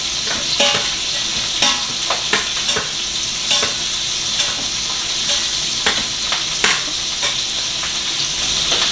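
Steak sizzles steadily in a hot pan, a constant crackling hiss broken by sharp pops and spatters every second or so.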